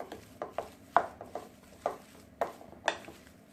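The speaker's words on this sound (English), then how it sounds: "And you just want to stir that around really good." A spoon stirs black pepper through a thick mashed potato casserole mixture, giving a series of soft scraping knocks against the bowl at an uneven pace, close and fairly quiet.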